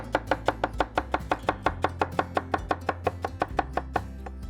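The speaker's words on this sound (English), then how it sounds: "Let's cut up some of this. I love celery." Kitchen knife chopping celery on a cutting board, a steady run of about twenty crisp, evenly spaced cuts, close and clear with no talking.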